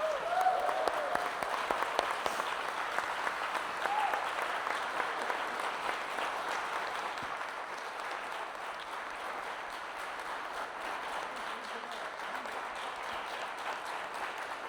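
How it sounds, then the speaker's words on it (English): Long, sustained applause from a live audience after a speaker's remarks, an even, dense wash of clapping that holds steady from start to finish. "You received such a long applause."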